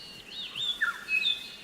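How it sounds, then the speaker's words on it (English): Superb lyrebird singing in forest, a few thin whistled notes and swooping slurred calls, moderately faint at a distance over quiet background. "Superb lyrebird again."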